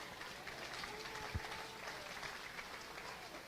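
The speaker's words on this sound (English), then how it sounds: "let's give all of our Clover showmen a really nice round of applause" Spectators at a county 4-H beef cattle show clap for the young showmen in the ring. The applause is faint and distant, a soft, steady patter across a large show arena with one brief low thump partway through.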